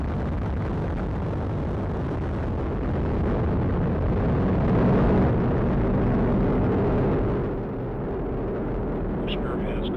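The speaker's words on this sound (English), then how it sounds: "Liftoff of the United Launch Alliance Atlas V rocket carrying the NROL-52 mission" A United Launch Alliance Atlas V rocket lifts off on the NROL-52 mission, a continuous, heavy rumbling roar that swells and stays loud throughout, under launch commentary.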